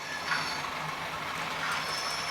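A model railway box van runs with a steady, fine mechanical ratcheting clatter, continuous and close, with no talk.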